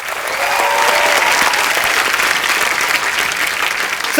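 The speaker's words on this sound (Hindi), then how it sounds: "इनके लिए भी जोरदार तालियां।" Loud studio audience applause on The Kapil Sharma Show for a musician being introduced, thick continuous clapping that swells quickly and holds steady, with a brief faint tone early on.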